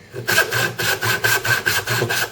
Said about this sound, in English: I'm always using a hand to support myself while I'm sawing, especially for a thick piece of wood like this